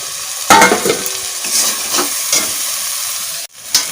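Fried prawns tip into a frying pan of taro stolon curry, setting off a sharp sizzle followed by scraping stirs and steady crackling hiss, loud and close.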